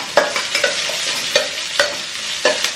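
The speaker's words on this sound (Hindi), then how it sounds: "थोड़ा सा प्याज भी डाल दूं मैं" Onion frying in a pan in a home kitchen, a steady sizzle broken by several sharp scraping stirs of a spatula at irregular intervals, close and clear with no talking.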